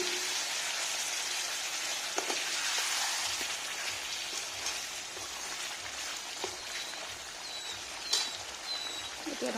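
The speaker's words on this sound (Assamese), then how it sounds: "অকণমান পানী দি পেলাই ভাজি থাকিম।" Duck curry with potatoes and pumpkin frying in a pan after a little water goes in, a dense bubbling sizzle that stays close and steady, with an occasional soft clink.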